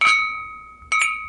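Glasses clink in a toast as an audiobook sound effect: two bright ringing chimes, a quick double touch at the start and another shortly after, each with a sustained glassy ring and nothing else around them.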